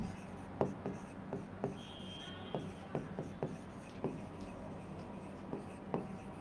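Marker or chalk writing on a board during a chemistry lesson, a series of soft, quick taps and strokes repeating steadily over a low room hum, with no talk heard.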